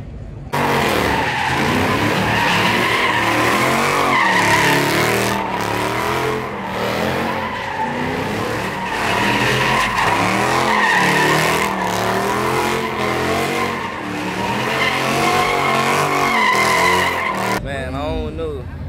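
A Dodge Hellcat swings and skids at a car meet in Miami, its tires squealing and its engine roaring loud and close in long continuous bursts, with crowd noise and voices underneath.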